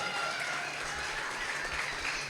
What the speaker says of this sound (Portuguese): Dá o seu melhor salva de palmas a Jesus.